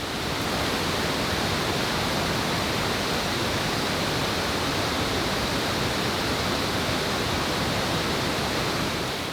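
A waterfall at a Temagami campsite along the Lady Evelyn in early spring roars as a steady, dense wash of falling water, loud and unbroken, with no voices.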